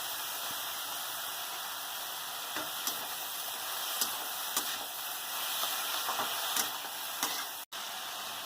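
Beto greens and eggplant stir-fry in a pan with a faint, steady sizzle and hiss, broken by a few soft scrapes and taps from stirring.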